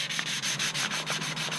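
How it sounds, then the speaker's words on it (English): Steady back-and-forth sanding on the engine bay of a BMW E36 M3, stripping off old seam sealer. Rapid, even abrasive strokes fill the space, close and continuous, with no talking. "let's get this finished sanding up"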